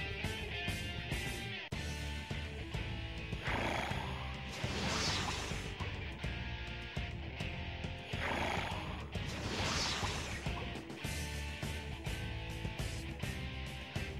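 Water horses in the Shin Megami Tensei: Digital Devil Saga video game neigh and whinny in loud repeated bursts over dense game music and battle effects, with swooshes and crashes.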